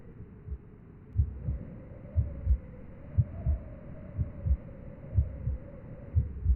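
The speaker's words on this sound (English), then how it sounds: "You can actually hear a heartbeat coming from Brother Yumatello" A slow, muffled heartbeat coming from a character buried alive in a haunted-house video game, thudding in steady double beats over a low hum.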